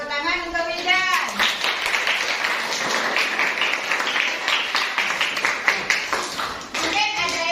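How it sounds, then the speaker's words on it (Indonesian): Classroom applause as pupils clap together for a student who answered a maths question correctly, a dense steady patter of many small hands lasting several seconds, with children's voices briefly audible at the start and end. "Tepuk tangan untuk Wildan."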